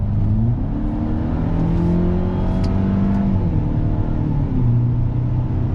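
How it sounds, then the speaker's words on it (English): Mercedes-Benz SLC 300 convertible engine note while braking into a right-hand bend: a steady, fairly loud drone and whir with shifting low tones, no talking. "You do get some very interesting noise coming from the engine on the brakes"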